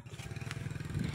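Motorcycle climbing uphill on a farm road, its mid-pitched engine chugging in a steady, pulsing rhythm close by, with light clatter and scraping over the drone.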